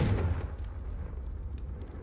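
A Confringo fire-blast spell in the Hogwarts Legacy video game explodes with a single sharp, loud burst at the start, followed by a low rumbling decay and faint crackles.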